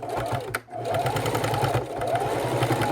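A sewing machine stitches through the thick layered bottom of a fabric neck wallet, a fast steady mechanical whir with one short pause near the start.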